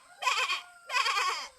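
Two loud bleats, each about half a second long, come close together with a short silence between them. No talk is heard.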